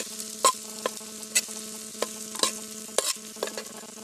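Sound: frying kudampuli in oil in a pan

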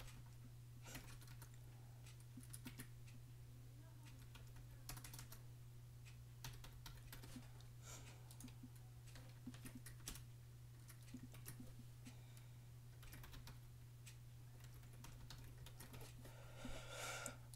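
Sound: typing on a computer keyboard

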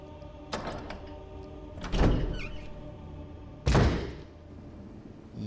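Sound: door opening in Resident Evil Remake video game

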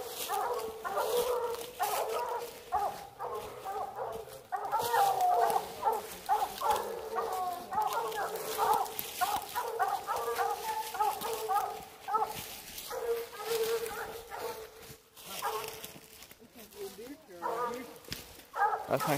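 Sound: hounds barking at treed raccoon

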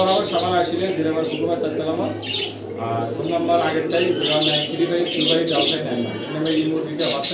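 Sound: pigeons cooing

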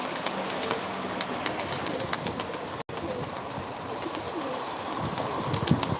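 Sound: pigeons cooing at a live pigeon auction

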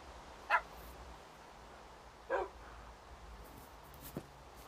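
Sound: dogs in Minecraft Pocket Edition, video game

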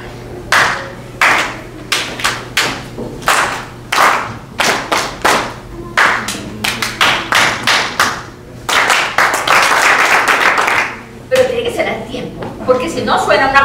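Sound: group clapping along to a rhythm

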